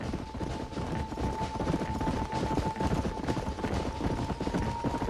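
Galloping horse hooves in the Western video game Red Dead Redemption, a steady fast drumming rhythm under dense game ambience with a constant tonal hum throughout.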